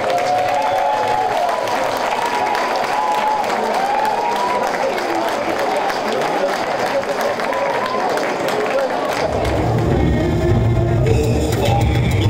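Carnival audience applauding loudly and steadily for about nine seconds, with cheering voices and shouts rising over the clapping, before the clapping gives way to a louder, lower crowd roar or music at the end.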